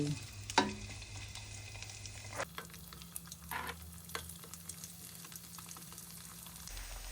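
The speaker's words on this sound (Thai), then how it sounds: "ตั้งกระทะใส่น้ำมันให้ร้อน ค่อยๆหย่อนข้าวเหนียว ที่เราตากแห้งนะคะ ลงออกมาทอดเลย" Dried sticky rice sizzles and crackles steadily in hot oil in a pan, with a sharp splash early on and occasional stirring clatter, close and continuous.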